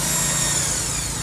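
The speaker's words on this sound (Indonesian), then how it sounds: "Untuk pengeboran dinding silinder head ini tidak begitu rumit karena bahannya adalah alpaka" An electric drill bores through the alpaka alloy cylinder head wall of a Yamaha Jupiter MX motorcycle, a loud, close, continuous high whine with no pauses.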